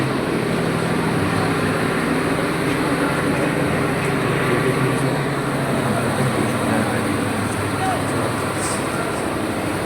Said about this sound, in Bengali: এই কক্সবাজার ট্রেন